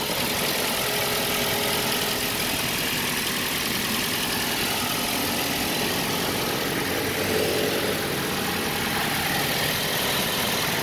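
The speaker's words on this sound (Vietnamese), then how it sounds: "Máy nổ đấy ạ." A 2008 Toyota Innova diesel engine idles steadily for the whole stretch, a dense, continuous mechanical rumble with a faint knocking texture, fairly close and with no talk over it.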